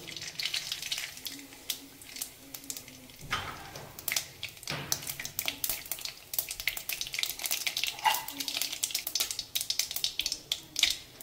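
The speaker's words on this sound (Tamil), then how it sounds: "இப்போ நல்லா வெந்தயம் செவந்துருச்சு. கடுகு போட்டுக்கலாம்." Mustard seeds and reddened fenugreek crackle in hot oil for a mango fish curry, a faint, continuous sizzle full of scattered sharp pops that grows busier after a brief lull.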